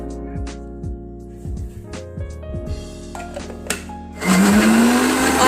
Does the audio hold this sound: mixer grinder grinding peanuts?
yes